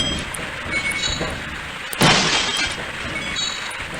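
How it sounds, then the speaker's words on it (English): Glass shatters in the Half-Life video game, one loud sharp crash at the midpoint with a brief bright spray of breaking shards over steady game background noise. "I can break the glass."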